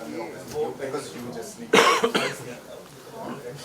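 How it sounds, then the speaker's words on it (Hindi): A single sharp cough bursts out amid ongoing conversation, loud and close, followed by a shorter second hack as voices continue around it. "खांसी आवाज भी इसमें आ गई।"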